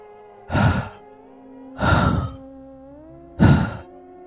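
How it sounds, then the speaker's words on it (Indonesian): Heavy, deep breathing comes from inside a safe in a dark room: three slow, loud breaths spaced evenly over a low sustained hum. "Dari dalam berangkas terdengar suara napas."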